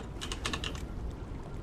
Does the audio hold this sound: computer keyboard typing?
yes